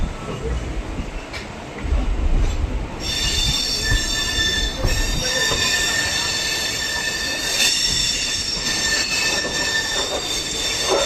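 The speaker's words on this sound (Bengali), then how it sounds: "আমাদের ট্রেন প্রবেশ করছে কলকাতা স্টেশনে" A train rolls into Kolkata station with a low rumble, then high metallic wheel squeals ring out and persist over the clatter as it slows.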